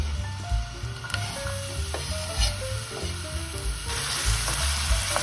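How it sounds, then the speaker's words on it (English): Onions sizzle and crackle in olive oil in a large shallow pan over high heat, a dense continuous frying hiss with stirring scrapes, growing louder near the end, close and without voices. "I've turned heat on, and we need to start with a high heat. So I'm going to put the onions."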